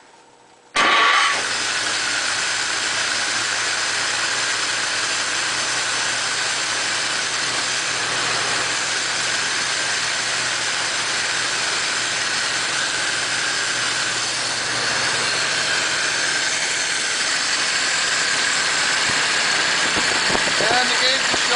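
A 1941 Pontiac engine cranks and catches abruptly, then settles into a steady, loud, even idle that runs on without a break, close to the listener.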